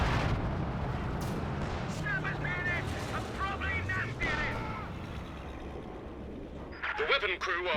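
Distant booms of mortar and infantry support gun fire in a Company of Heroes 2 battle, rumbling under continuous excited commentary with other battlefield noises mixed in.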